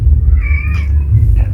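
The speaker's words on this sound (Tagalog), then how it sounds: "kinukulong namin yung pusa na yan" A house cat gives one close, loud meow, a drawn-out wavering cry with a brief second call near the end over a low background hum.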